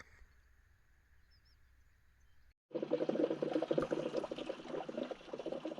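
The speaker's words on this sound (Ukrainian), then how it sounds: "Ось чуєте, як булькотить. Пішли у гази в розширювальний бачок." Gases bubbling and gurgling in the radiator expansion tank of an MTZ-892 tractor with a head gasket fault, a faint hiss at first, then a loud, close, continuous burbling churn of coolant after a short pause.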